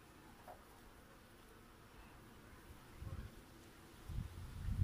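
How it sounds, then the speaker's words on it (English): Low, droning buzz of many agitated honeybees hovering close by during an August hive inspection, swelling louder in short bursts toward the end. "The bees are not happy at all."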